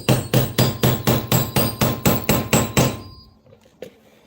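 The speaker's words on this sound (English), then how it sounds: "And then just form your rivet." A hammer forms a rivet on a WWII M1 helmet liner with about eleven loud, sharp, evenly spaced strikes in quick rhythm, then a sudden stop and a faint clink in near silence.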